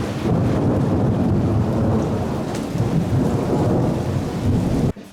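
Thunder rumbling through a heavy thunderstorm with steady rain, a loud continuous low roar and downpour close by, cutting off abruptly at the end, with no talking.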